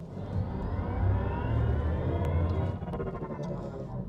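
A 2024 MINI Cooper Electric in go-kart mode playing its synthetic augmented drive sound, a loud layered engine-like hum swelling as it accelerates and then easing off, heard from inside the cabin.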